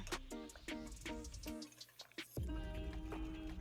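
A whisk beats an egg mixture for biscuits and gravy casserole in a bowl, making quick, regular clinking strokes close by, then a longer ringing scrape; no talking.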